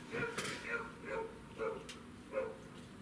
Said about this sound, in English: Hello, noisy dogs, okay?